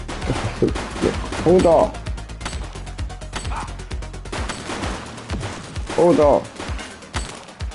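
Gunfire in the police video game The Precinct as a suspect shoots, with sharp repeated shots breaking out in bursts amid shouting voices and a barking dog.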